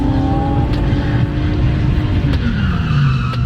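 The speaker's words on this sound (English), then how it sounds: "he blew a tire" Drifting car at a grassroots drift event blowing a tire, a continuous loud engine roar and tire skid sustained throughout, with a sharp drop in engine pitch midway, no clear distinct pop.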